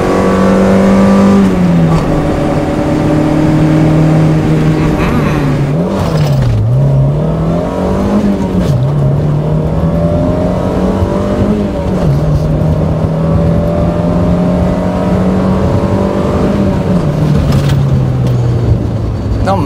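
A first-generation Mazda MX-5 engine revs hard while driving, pitch climbing and dipping through gear changes, loud and close, steady throughout with no talk.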